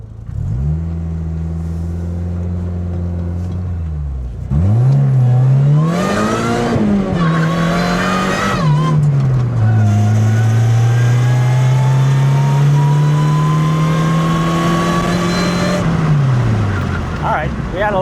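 A 7th-generation Honda Civic, K24-swapped and supercharged, revs and accelerates close up, its engine note rising and falling through a couple of throttle blips before one long, loud climb in pitch that cuts off near the end.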